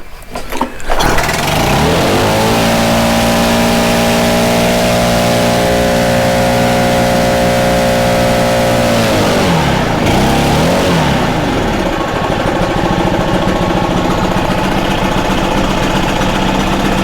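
A Stihl BR800 backpack leaf blower engine is held at full throttle, roaring loud and close in a steady high-pitched drone that holds for several seconds, then drops and settles into a rough, uneven running sound.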